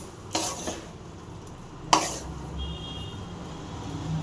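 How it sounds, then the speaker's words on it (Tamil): Lemon pickle being stirred by hand with chili powder and salt, giving two soft scraping bursts against a quiet kitchen background, with no talk. "மிளகாத்தூள் மட்டும் போட்டு அப்படியே உப்பு போட்டாச்சு. போட்டு நல்லா கலக்கிடுங்க."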